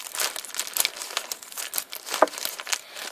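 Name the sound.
package being cut open, crinkling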